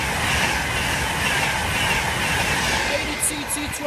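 A train passes through Peterborough station, a steady broad rumble of rail noise filling the clip with brief high squeals near the end and faint station voices in the background.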